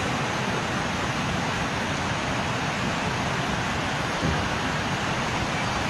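Steady rain heard from inside a room, a continuous broadband hiss with no breaks, fairly even in loudness throughout.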